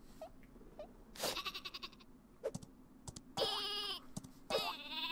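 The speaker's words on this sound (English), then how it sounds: "That was a waste of a sheep." In the video game Worms W.M.D, a sheep weapon lets out several short, fairly faint bleats, spaced irregularly among light clicking sounds.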